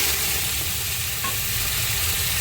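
Prawns frying in hot oil with water lily stems, giving a steady, close sizzle that runs evenly throughout with a faint low rumble underneath and no talking.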